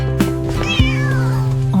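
A kitten gives one clear, falling meow over steady background music in a nursery rhyme, near and prominent.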